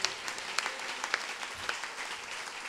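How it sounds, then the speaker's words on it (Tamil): Church congregation in Chennai clapping together during a sermon, a rhythmic run of hand claps with sharp accented beats over a steady clatter, moderately loud and sustained. "என்ன விசுவாச கைத்தட்டு"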